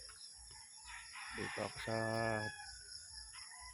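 A rooster crows once at moderate distance on Siargao island in the morning, a clear rising then sustained call, while a person speaks briefly before it against steady background hum.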